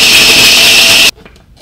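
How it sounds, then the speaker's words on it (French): A small blender whirs loudly and steadily for about a second, grinding biscuits into a fine powder, then cuts off abruptly, leaving only faint clatter. "On mixe."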